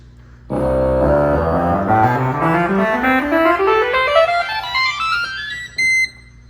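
Pipe organ notes climb steadily upward in a long, smooth run, sustained and resonant. The sound holds full and loud throughout, then stops with a short final chord.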